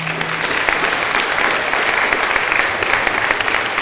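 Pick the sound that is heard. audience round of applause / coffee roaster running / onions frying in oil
audience round of applause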